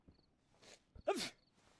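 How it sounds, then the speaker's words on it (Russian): A character coughing or sneezing in DayZ: a single short, sharp vocal burst near the middle, fairly quiet, with faint shuffling before and after. "Это кто кашляет?"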